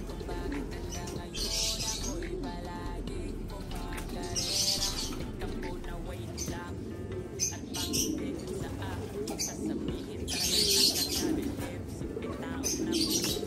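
Homing pigeons returning to their loft, a red check among them, with soft cooing and chirps running continuously across a steady outdoor background, some wing flutters, and a voice speaking in places.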